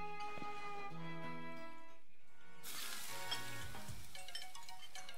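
Food sizzling on a restaurant griddle in Pokémon Sword, a soft crackling hiss that swells midway and layers over tonal game music with chimes, fairly quiet and without talk.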